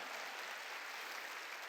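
A church congregation applauds during a New Year's Eve worship service, a dense, even wash of clapping that holds steady throughout.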